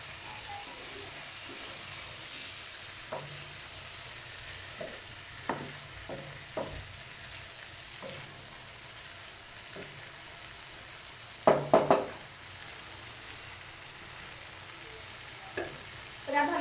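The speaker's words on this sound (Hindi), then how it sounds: "अब हम इसमें दही डालेंगे। तो इसे फ्राई करेंगे।" Egg jalfrezi masala with yogurt fries in a pan, a low, even sizzle running throughout, punctuated by scattered spoon taps and a louder cluster of scraping clatter near the end.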